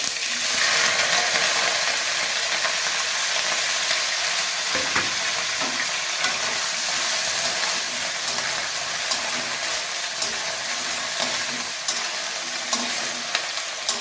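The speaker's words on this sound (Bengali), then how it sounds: "আমি ফুলকপিগুলো একটু হালকা ভেজে নেব" Continuous loud sizzling of cauliflower frying in hot oil, with occasional stirring scrapes and bubbling, steady throughout with no voices.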